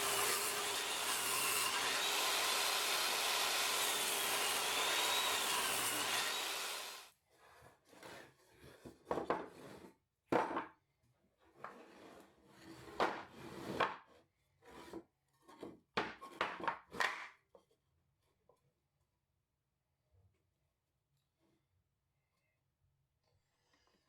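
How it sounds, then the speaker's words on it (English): Table or circular saw ripping 2x4 lumber into boards for a bench, blade set to 3¼ inches: a run of separate cutting passes, each a loud rasping burst a second or two long with short gaps, after a steady louder stretch at the start. "I'm ripping out the boards to finalize milling them square. I'm setting the blade at 3¼ inches"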